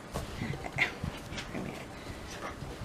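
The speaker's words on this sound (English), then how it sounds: "The dogs are playing under the table." Two dogs, Belle and Sonny, play under a table on a homestead porch, with soft whimpers, panting and scuffling bumps at close range, no talking.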